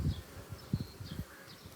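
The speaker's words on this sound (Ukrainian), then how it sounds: "Ось така кількість бджіл." Honey bees buzzing at an open beehive, a soft steady hum of many insects close by with a few louder passes drifting near, alone without talk.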